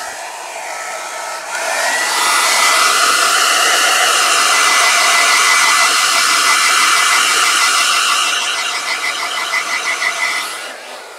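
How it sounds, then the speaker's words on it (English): A hair dryer on its cool setting switches on and blows with a loud, steady whir for several seconds, then winds down and cuts off. "I'm just going to hit something with the hair dryer for a second."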